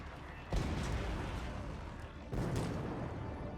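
Two heavy explosions in Mass Effect 3, one near half a second and another past two seconds, each a broad rumbling burst with a lingering roar, loud and close with no talk.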